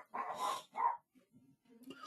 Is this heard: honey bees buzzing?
no